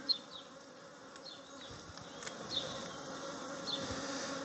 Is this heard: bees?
yes